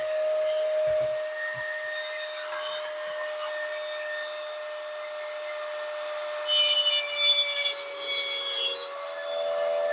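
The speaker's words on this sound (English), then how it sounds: "I'm going to use my Dremel with a little cutoff wheel on it, and I'm just going to cut off about 1/4 inch of the threaded part here" A Dremel rotary tool with a small cutoff wheel slices about a quarter inch off a threaded stud with a nut left on, giving a steady high whine with rasping grind throughout, brighter and harsher toward the end.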